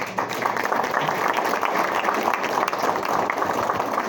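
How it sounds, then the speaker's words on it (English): Audience applause at a property investment club tax debate, a dense steady patter of many clapping hands sustained throughout, fairly close and loud. "So please give a huge round of applause for Milan Patel."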